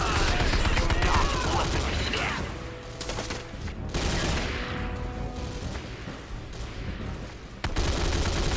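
Video game gunfire from Command & Conquer: Renegade, rapid rattling bursts and booms with mechanical clatter, fairly loud, while voices call out under and between the shots.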